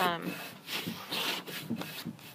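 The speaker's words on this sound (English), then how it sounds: "I'm just going to brush it off with my paintbrush to get all of my" Paintbrush bristles sweeping sawdust off freshly sanded wood being prepared for a Swedish paint finish, a close, soft rubbing swish repeated in several quick strokes, with a voice talking over it.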